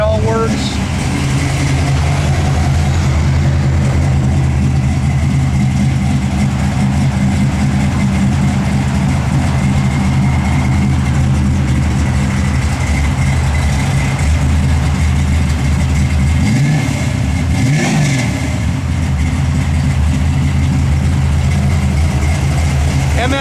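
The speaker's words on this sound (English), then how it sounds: "Car sounds good, doesn't it?" A 1966 Plymouth Satellite with an MSD ignition idles with a loud, steady low rumble throughout, with a brief rev swell near the end and someone talking over it.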